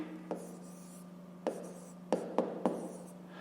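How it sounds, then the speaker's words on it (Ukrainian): A pen writes a fraction by hand on paper, making quiet scratching strokes with a few sharp taps, close and faint against a steady low hum. "Давайте так і запишемо. Пишемо тоді дріб."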